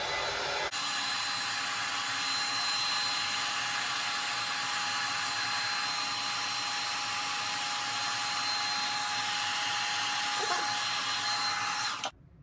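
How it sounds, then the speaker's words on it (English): Heat gun warming the top surface of poured candle wax, a steady, even blowing hiss that starts abruptly, holds constant for about eleven seconds near the microphone, then cuts off. "I'm going to heat gun the top a little bit and then try placing these hearts on top."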